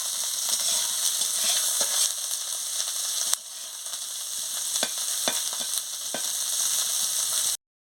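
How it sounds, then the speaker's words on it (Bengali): Puti fish with coriander leaves and chopped onion sizzling in a hot pan while being stirred, a steady close frying hiss broken by scraping clicks of the spoon, with a brief dip partway through. "মাছের সঙ্গে ধনে পাতা, পেঁয়াজ কুচি দিয়ে ভালো করে নাড়িয়ে নিচ্ছি"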